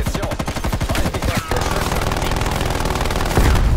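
Automatic gunfire hammers in Call of Duty Black Ops Cold War multiplayer, loud rapid rounds in a dense stream that pauses briefly and then resumes with a heavy blast near the end.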